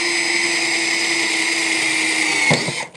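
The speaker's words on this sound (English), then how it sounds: "Take your trusty little drill." A small handheld drill whines steadily while boring into a plastic planter bin, loud and close, then cuts off with a short clatter near the end.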